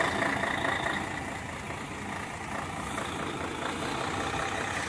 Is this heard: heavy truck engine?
yes